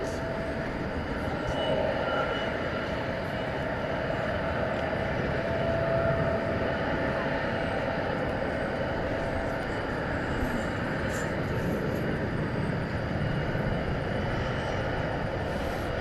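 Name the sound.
American Airlines MD-80 Super 80 aircraft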